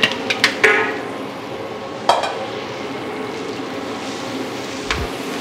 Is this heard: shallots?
yes